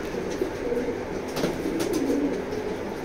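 A pair of chocolate grizzle pigeons coo softly nearby, low rolling calls repeating over a steady background hum.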